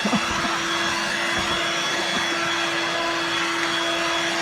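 A corded Hoover Dirt Devil Vibe 3-in-1 stick vacuum cleaner runs with a steady, close motor whine and airflow rush, continuous and unbroken, with no talking.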